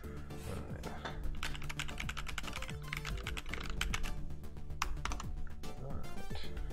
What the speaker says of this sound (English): Let's do a little typing test right quick.